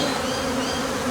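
Dense, steady buzzing of many honey bees robbing beehives set on stands, a continuous loud swarm drone with no pauses and no voices.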